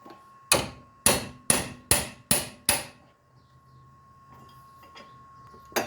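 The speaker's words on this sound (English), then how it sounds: "just a few whacks with a hammer" Six sharp metal hammer blows ring out in quick, steady succession as a hammer strikes the steering knuckle of a two-door Chevrolet Tahoe to break a ball joint free, followed by quieter shuffling and one more strike at the end.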